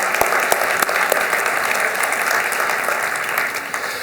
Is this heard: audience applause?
yes